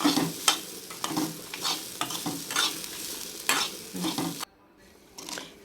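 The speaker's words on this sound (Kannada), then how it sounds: "ತೆಂಗಿನಕಾಯಿ ಬಿಸಿ ಮಾಡ್ಕೋಬೇಕು." Grated coconut heated in a pan for Mangalore-style cucumber sambar, with a gentle sizzle and repeated rhythmic scraping strokes of a spatula stirring it, close up; the stirring stops briefly before one last scrape.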